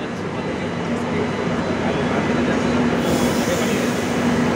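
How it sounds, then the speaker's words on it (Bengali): A metro train pulls out of an underground station, a steady loud rumble of wheels and motors with a faint tonal whine that holds throughout, close by and continuous. "একটা গাড়ি ছেড়ে দিল, ট্রেনটা ছেড়ে দিল।"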